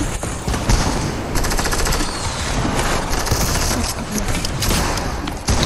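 Automatic gunfire from a Deadpool video game sounds in sustained, loud bursts of rapid shots with a few heavier thuds mixed in, crowding the whole stretch.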